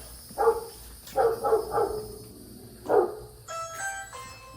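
A dog barks outside a house with a car in the driveway, several separate barks in short bursts at moderate distance, followed by a brief high tonal sound at the end.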